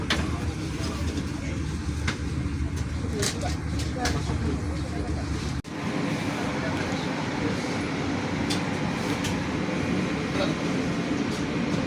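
The Bogowonto passenger train pulls into Lempuyangan station in Yogyakarta, giving a steady, loud broadband rumble of rolling wheels and engine noise with faint metallic clanks and a brief dip midway.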